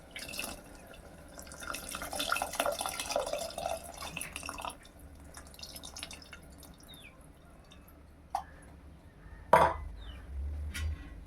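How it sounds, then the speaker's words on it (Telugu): Tamarind juice is poured into an okra stew, giving a soft liquid trickle in the first few seconds, then faint drips and a couple of sharp splashes near the end, all close and quiet. "ఇప్పుడు ఈ చింతపండు రసాన్ని ఇందులో వేసేసుకోవాలి"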